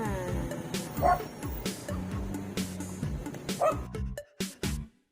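Several dogs bark and yip in quick, overlapping bursts, with a few high whimpers mixed in, close by; the last second goes quiet between sharp yelps.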